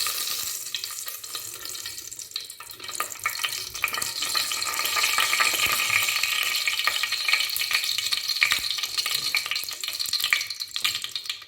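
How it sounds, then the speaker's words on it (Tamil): Sesame oil heats in a dry, hot pan before tempering for a fish kuzhambu, giving a steady, moderately loud sizzling hiss that runs throughout, slightly fuller in the second half, with no talking. "இப்போது தாளிக்கிறதுக்கு நல்லெண்ணெய் ஊற்றுறேன்."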